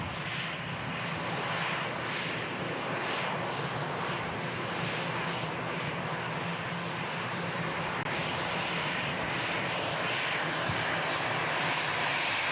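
An EasyJet airliner from Copenhagen passes at Manchester Airport, its engines giving a steady, broad roar that holds for the whole stretch without a break.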